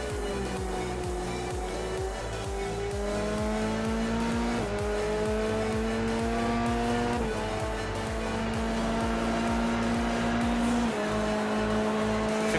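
A Formula 3 racing car lapping Suzuka in a sim racing game, heard on board: a loud, steady engine whine climbing through repeated upshifts with brief gaps between gears, occasional tyre noise, no voices.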